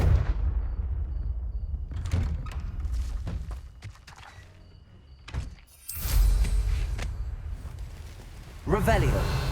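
In Hogwarts Legacy, a Confringo fire spell is cast with a sudden loud burst and crackle, then a second blast near the end, over ongoing game ambience.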